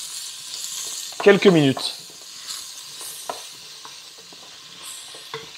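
Smoked pork belly with shallots and garlic sizzling in a pan, a steady soft crackle broken by a brief burst of louder stirring and scraping, with a short spoken phrase over it.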